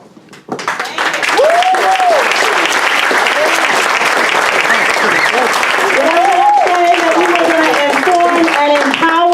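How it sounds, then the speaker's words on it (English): Sustained applause from a town meeting audience rises quickly and fills the room at steady volume, with voices calling and talking over the clapping throughout. "Let's give Brandon a round of applause for that information"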